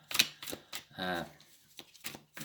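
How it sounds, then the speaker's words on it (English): Tarot cards are shuffled in a quiet room: soft, sharp riffling snaps and a short flutter burst as cards slip, heard close and faint. "There's the shuffle, because the card came flying out."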